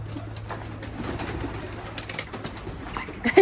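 Pigeons being let out of their loft coo softly and steadily close by, with a low hum underneath and some rustling near the end.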